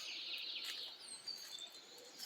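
Small birds sing and chirp in a quiet natural setting, with faint, thin, high-pitched calls scattered over soft background ambience and no voices.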